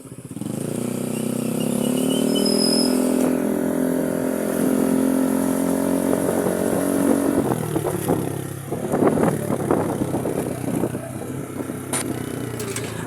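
Motorcycle on a road near Magdalena, Laguna, its engine droning steadily and climbing in pitch as it speeds up, then easing off into rougher, choppier engine and wind noise toward the end.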